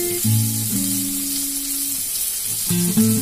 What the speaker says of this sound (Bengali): কড়াইতে সর্ষে তেল দিয়ে পেঁয়াজ আর কাঁচা লঙ্কাটা ভাজতে বসিয়ে দিয়েছি।